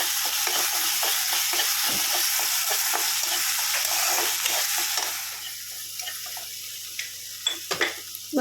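Spice masala with salt and sugar sizzles and fries in a pan while being stirred, with steady frying hiss and repeated scraping strokes; the sizzle fades after about five seconds, leaving quieter scattered stirs and clinks.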